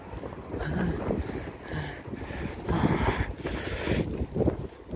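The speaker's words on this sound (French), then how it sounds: "Ah, en plus il y a un vent de fou." Strong, cold wind in Beaugency, France buffets the microphone in gusty, rumbling bursts, with a low roar rising and falling throughout.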